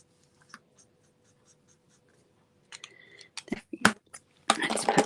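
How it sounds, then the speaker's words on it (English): A coloring tool scratches over paper cardstock while birds are colored in, first in faint sparse strokes and then in denser, louder scribbling bursts, close up. "with the way I'm coloring my birds"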